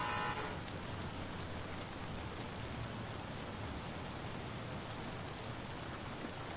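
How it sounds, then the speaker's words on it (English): Steady broadband hiss of rain in Detroit: Become Human, a constant even wash with no voices. "Listen to the rain."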